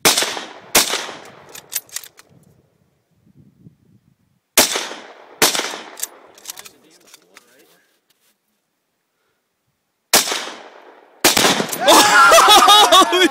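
Outdoor rifle fire aimed at a Tannerite-packed teddy bear: several sharp, loud cracks and booms separated by silent gaps, each fading with a short echo, ending with an excited voice shouting close up.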